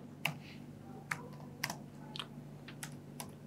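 Code being typed on a computer keyboard while a Docker hello-world example is written, heard as sparse, light clicks in short irregular bursts, close but quiet over a low steady hum.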